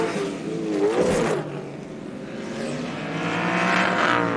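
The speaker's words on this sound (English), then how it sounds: "The 73 Corvette is caught up with Robin Liddell." GT race cars such as a Porsche and a Corvette racing at Road Atlanta, engines roaring steadily with a passing surge near the start and a continuous loud drone throughout, no talk.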